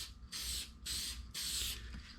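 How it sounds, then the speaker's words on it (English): Spray can laying a coating onto a laser-engraved wooden key holder, three steady hissing bursts each about half a second long, separated by short pauses, close and fairly loud. "I'm going to take them out and then spray the other part that will be shown here"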